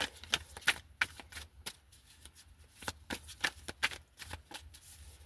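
Tarot cards being shuffled and drawn by hand, a quick irregular series of crisp riffling snaps and flicks, close and fairly loud, with no talking.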